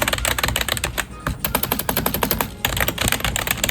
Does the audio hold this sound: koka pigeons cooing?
no